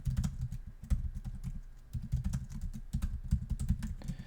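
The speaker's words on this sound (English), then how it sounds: "One is just to type clear at the command line," Fingers type a short terminal command on a computer keyboard, a close run of quick, crisp key clicks in uneven bursts with brief pauses between groups of keystrokes.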